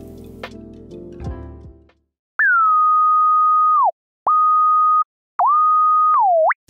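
A synthesizer lead sub oscillator with all effects turned off plays three clean, pure sustained tones with pitch bends at their edges, after a short burst of other layered music.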